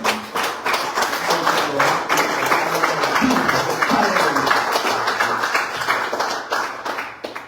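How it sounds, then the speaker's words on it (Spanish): A church congregation claps together in a sustained, rhythmic burst of palms, loud and close throughout with no voices over it. "Démosle palmas, Señor."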